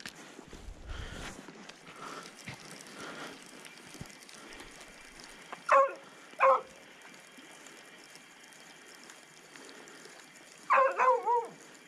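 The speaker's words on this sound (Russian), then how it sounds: "Кто тебя научил лаять-то?" Outdoors at a quiet fishing spot where crucian carp are biting, a dog lets out two sharp, separate barks, then a quick burst of three more a few seconds later, clear against faint background ambience.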